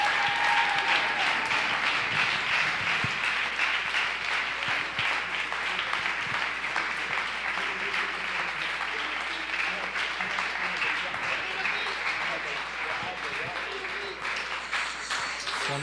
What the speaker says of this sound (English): Give them a round of applause one more time.